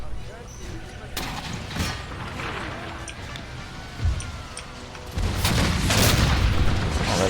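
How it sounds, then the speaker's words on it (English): Cannons fire on a battlefield in the video game Empire: Total War, producing a few dull booms and a heavy rumble that swells near the end, with a person talking over the battle noise. "Cannons aren't doing as much as I'd hoped."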